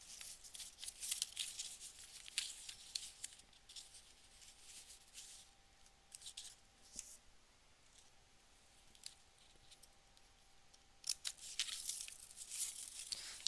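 Paper tape being torn and handled during a collage craft session, with bursts of crisp tearing and crinkling that come and go, quiet and close.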